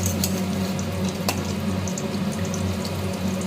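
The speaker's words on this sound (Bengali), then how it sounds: "আস্তে আস্তে এই যে মাছের ডিমের বড়াগুলো ভাজা হচ্ছে, এবার উল্টে দিতে হবে।" Fish roe fritters fry in a pan of oil, producing a continuous close sizzle with a few sharp pops and a low steady hum underneath, no talking.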